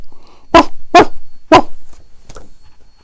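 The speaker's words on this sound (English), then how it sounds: "The dogs began to bark." Dogs bark in a busy veterinary waiting room, three loud sharp barks about half a second apart, followed by a fainter yelp.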